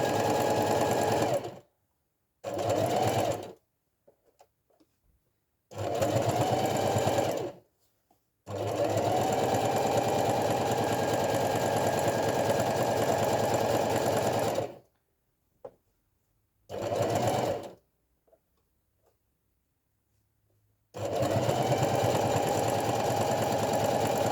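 A sewing machine stitching a fabric market bag runs in several bursts of steady, close mechanical whirring, some short and some sustained for several seconds, separated by silent pauses.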